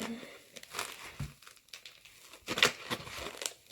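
Paper being cut and handled up close while letters are cut out, giving a string of irregular crinkles, rustles and snips at low volume.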